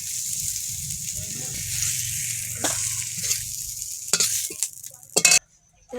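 Vegetables and tomato frying in an Indian kadai, a steady sizzle with stirring scrapes and occasional clinks of utensils, moderately close, with brief louder bursts near the end.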